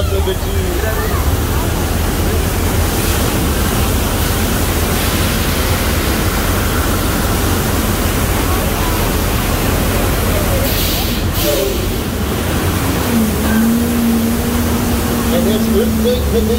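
Water rushes and roars in a staged flood effect on the Universal Studios tour's Earthquake attraction. The loud broadband wash runs steadily from start to finish, with faint crowd murmur and a brief tonal rumble beneath it near the end.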